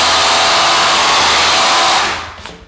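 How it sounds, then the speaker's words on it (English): A power drill runs loudly as its bit is withdrawn from a hole drilled into a floor during a stud wall build, a steady whining roar that winds down and stops near the end. "I'm just clearing the hole so that as I'm withdrawing the drill bit"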